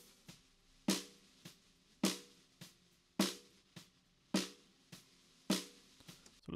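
Snare drum with a high-shelf EQ boost around 7 to 8 kHz, crisp bright hits alternating loud and softer strokes in a steady groove, heard alone and up close.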